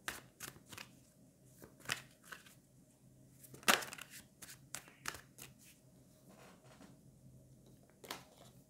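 Tarot cards being shuffled and drawn by hand, producing quiet, close, intermittent riffles, slides and flicks, with one sharper snap midway and pauses between the movements.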